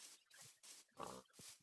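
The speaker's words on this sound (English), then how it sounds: "I heard a pig." A Minecraft pig gives several short, faint oinks and grunts in an irregular rhythm, heard alone at a low level.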